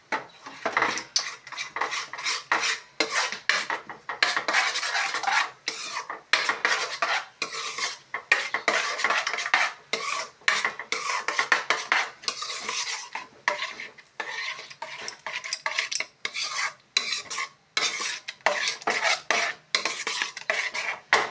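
Rice flour batter mixed with oil for homemade mango aamsotto is stirred hard in a metal pot, a close, continuous run of scraping and clinking that keeps going without pause, with no one talking.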